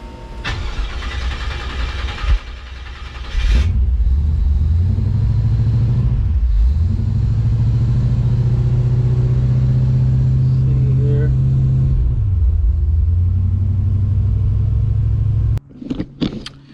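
A boxy Chevy Caprice fitted with a Holley Sniper EFI kit, low on fuel, cranks and fires. Its engine catches, then runs loud and close with a steady rumble before shutting off near the end.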